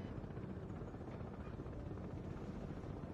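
The supply helicopter in the Broken Arrow video game makes a low, steady rotor rumble with a whooshing wash, continuous and fairly quiet throughout with no voices.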